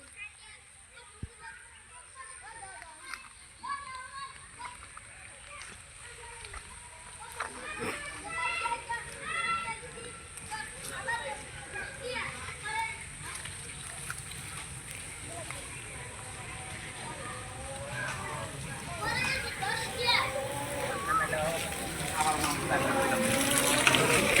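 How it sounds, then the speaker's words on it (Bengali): Children play and fish in a river running full to its banks, their distant shouts and chatter carrying over moving water, and the scene grows gradually louder and busier toward the end. "দেখেন ছোট পোলাপন মাছ মারে, দেখেন নদীর পানি কি অবস্থা।"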